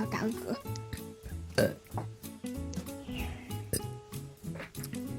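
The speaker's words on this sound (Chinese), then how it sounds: "要打嗝" Burps from a person, heard among other voices and sound in a burp compilation, with a few short belching bursts standing out against a busy background.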